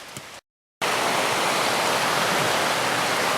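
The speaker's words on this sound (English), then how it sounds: "One of the feeder streams going into the Casaga River." A wilderness feeder stream pours into the Casaga River with a loud, steady rush of water; a short quiet moment gives way to continuous close-up flowing noise.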